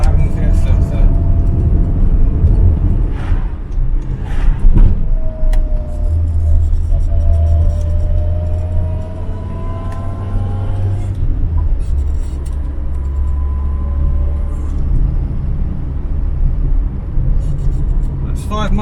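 An Austin Allegro drives along a road on a sunny day, its engine giving a steady low rumble close up with continuous road noise for the whole stretch, while someone talks over it.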